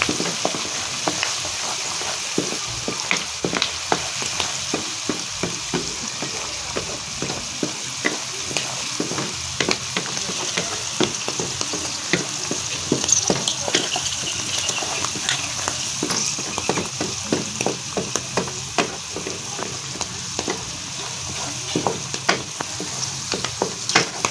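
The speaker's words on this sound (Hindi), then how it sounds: "तकरीबन 5 मिनट के लिए इसको फ्राई करेंगे, फिर इसमें अदरक लहसुन का पेस्ट डाल देंगे। इसको फ्राई करते जाएंगे।" Turnips and peas sizzle continuously in a hot pan while a spoon scrapes and stirs with frequent clinking taps.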